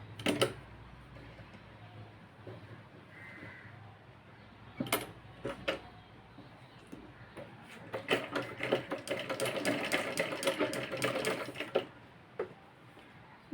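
A sewing machine stitches a sleeve onto a vest, running in short bursts of rapid mechanical clatter up close, then settling into a longer steady run of fast needle chatter.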